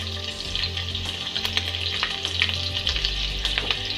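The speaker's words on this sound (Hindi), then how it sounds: "तो मैं लहसुन डाल रही हूँ और अदरक डाल रही हूँ" Garlic and ginger fry in hot oil for veg chowmein, giving a loud, steady sizzle with crackles and stirring scrapes close up. No voices are heard.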